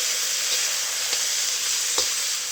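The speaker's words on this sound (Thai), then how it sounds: "ผัดหมูสามชั้นของเราให้สุกก่อนค่ะ" Thawed pork belly stir-fries with garlic that has already turned golden in a pan while cooking pad thai. A constant, loud sizzle continues throughout, broken by a few light clicks of stirring, with no talking.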